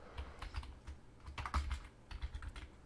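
Quick, close keystrokes on a computer keyboard, a burst of soft rapid clicks in short irregular runs, quiet and alone.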